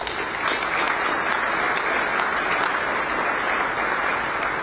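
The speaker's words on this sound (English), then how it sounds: "Can we give them a round of applause?" An audience at a Bexar County State of the County address applauds county and city leaders with steady, loud, sustained clapping from a large crowd.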